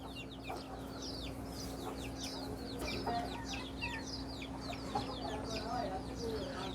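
A broody hen sitting on her eggs clucks softly in a backyard poultry setup, with frequent bird chirps and calls overhead, a steady low hum running beneath, and faint voices in the background.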